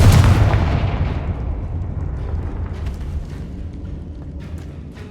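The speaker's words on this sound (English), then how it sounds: "Bombarda! Confringo!" A spell explosion bursts in the video game Hogwarts Legacy, a single loud booming blast at the start that rumbles and slowly fades over several seconds.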